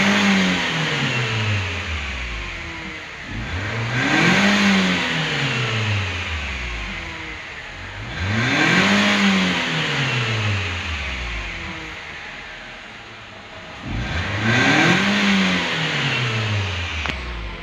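A Nissan X-Trail engine revs up three times after an accelerator pedal sensor adjustment, each loud rising-and-falling surge separated by a few seconds of idle, with no talking.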